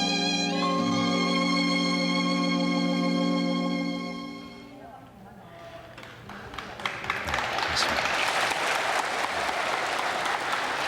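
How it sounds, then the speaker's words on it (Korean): An audience of people seeking lost relatives applauds in a central hall during a 1983 Korean family reunion broadcast. A sustained musical tone comes first, then loud, dense clapping swells and continues steadily to the end. "한 번이라도 더 혈육을 찾으시겠다는 분들이 앉아 계시면서 지금 박수를 쳐주시는데"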